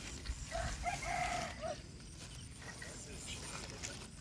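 A rooster crows once near the start in a rural farmyard, a fairly clear call lasting over a second, followed by background noise and faint chatter.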